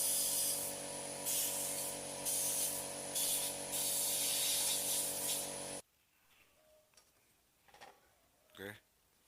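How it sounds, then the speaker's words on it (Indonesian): Cleaner sprays from an aerosol can onto the engine of an old Honda Revo motorcycle with the clutch cover removed, a loud, close, steady hiss in several bursts that cuts off abruptly, then faint handling noises. "ini kita semprot ya"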